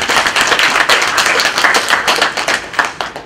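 A church congregation claps loudly in thanks for a mission team, a dense, close burst of many hands with crisp individual hits running steadily through the whole moment.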